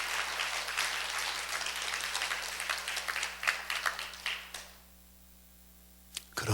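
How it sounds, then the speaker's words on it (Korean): A church congregation applauds during a Sunday service, dense sustained clapping that swells and thins for several seconds, then stops abruptly into near silence before a final faint sound. "우리 박수로 감사 표현합시다"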